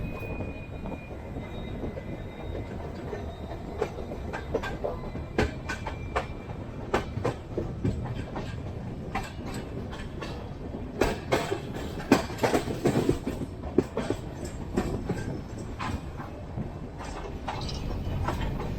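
A double-decker train running from Mumbai to Goa rolls on with a steady rumble and a regular rhythm of clicking wheel-on-rail joints, heard from on board.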